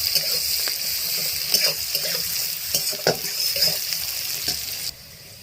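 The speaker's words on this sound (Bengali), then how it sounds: "পেঁয়াজ কুচি দিয়ে আমি একটু হালকা একটু ভেজে নেব, একদম হালকা, বেশি ভাজবো না।" Chopped onions lightly frying in a pan for tilapia mustard curry, a steady close sizzle with occasional stirring clatter, running throughout and cutting off abruptly near the end.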